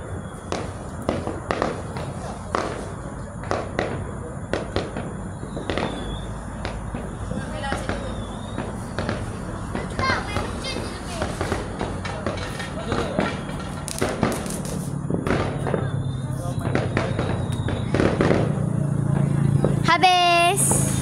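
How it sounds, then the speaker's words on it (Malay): Sharp popping bangs of firecrackers go off repeatedly throughout, some near and some distant, over steady outdoor background noise and occasional voices. "Tadi nak solat pun Allah habis mercun."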